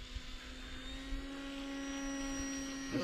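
Small E-flite Timber RC plane on snow floats flying overhead, a steady distant electric motor drone with a sustained tonal whine, fairly faint against outdoor wind.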